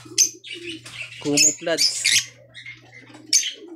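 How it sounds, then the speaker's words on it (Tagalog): Lovebirds in an aviary give sharp, high chirps and short calls in bursts, close by, while someone speaks over them. "Napakagandang ibon."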